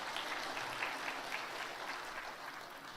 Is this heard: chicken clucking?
no